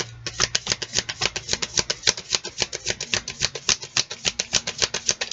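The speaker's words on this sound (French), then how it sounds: "On va tirer 3 cartes." Tarot cards are shuffled and drawn by hand, giving a steady rapid run of crisp flicking riffles, close and fairly quiet, with no talking.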